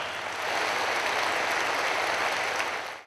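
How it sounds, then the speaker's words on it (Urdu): Loud, dense applause from a large audience at a government youth laptop scheme launch event, a sustained clapping roar filling the hall before fading out. "خواتین و حضرات، آپ کی بھرپور تالیاں."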